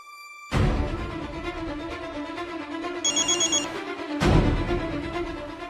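A telephone rings as a call is placed. Loud, repeated electronic ring bursts play over a steady tone, with a brief chirping pattern in the middle.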